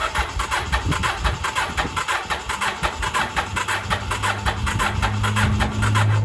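An 1982 Yamaha Maxim 750 or 1983 Honda Shadow barn-find motorcycle engine, fired up without choke, runs at a steady uneven idle with a close mechanical chatter and a low hum that rises toward the end.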